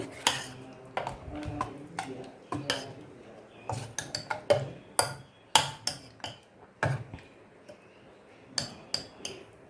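A spoon stirs wild mango curry tempered with coconut oil, mustard seeds and dried chillies, giving repeated irregular clinks and scrapes against the pot at close range.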